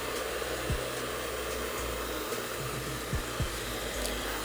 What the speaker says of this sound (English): I'm going in with a blow dryer to speed up the whole process.